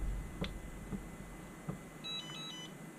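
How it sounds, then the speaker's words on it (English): Faint electronic beeps come from the buzzer alarm of a Turnigy Evolution radio transmitter: a few brief, soft chirps, the clearest near the end, over quiet background hiss. "Now this buzzer, everything you do now that triggers that alarm will have haptic feedback."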